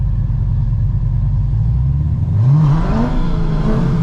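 A straight-pipe Corvette V8 rumbles loud and close at idle, then revs hard partway through, its pitch climbing and wavering as the tires spin; no one speaks.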